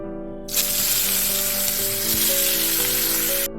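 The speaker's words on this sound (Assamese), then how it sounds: "এতিয়া আমি এইখিনি মাছখিনি অকণমান কাঢ়াকৈ ৰঙচুৱা হোৱাকৈ ভাজি লৈছোঁ।" Loud, steady sizzling of fish frying in hot mustard oil starts abruptly and crackles continuously close by, with no talking.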